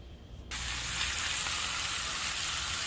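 Ribeye steaks hit a hot pan and burst into loud, steady searing sizzle after a brief quieter moment, the hiss holding strong and close with no voices.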